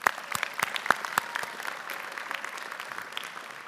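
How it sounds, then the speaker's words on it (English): Applause at a UC Merced graduate commencement ceremony, a crisp burst of many hands clapping that starts loud with sharp individual claps and thins out over a few seconds. "One more time, round of applause."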